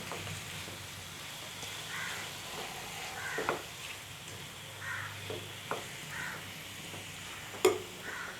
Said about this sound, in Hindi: चिकन को हम इसमें अच्छी तरह से फ्राई कर लेंगे।